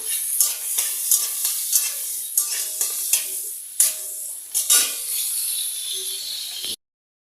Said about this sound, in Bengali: এই যে ছোলাটা ভাজা হয়ে গেল